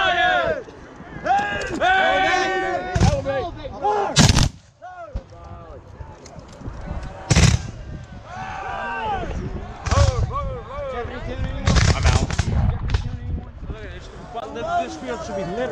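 Gunfire and artillery from a battle reenactment battalion at the New Market battlefield: several loud, sharp volleys and blasts ring out at irregular intervals, under a crowd talking and shouting commands.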